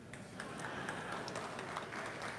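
Audience applause at the opening ceremony of the CARICOM Agri Investment Forum, a faint, steady patter of many hands clapping in a hall, continuous throughout without speech.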